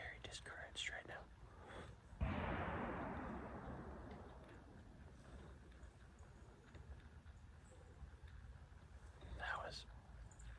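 A single distant rifle shot during deer hunting season in Michigan cracks out and rolls away in a long fading echo across open country, followed by quiet outdoor ambience and faint rustling.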